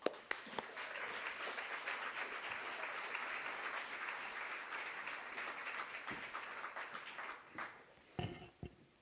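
An audience applauds to welcome speaker Charles Baxter, a dense sustained clapping that holds steady for several seconds before thinning out into a few scattered claps and faint noises at the end.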